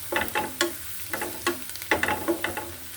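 Green chilies and a small bay leaf fry in hot oil in a pan with onion, giving close sizzling and repeated scraping stirs in short bursts, with no voices.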